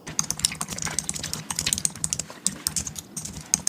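Rapid clattering keystrokes on a computer keyboard, close and busy with uneven bursts and brief pauses, heard alone without speech.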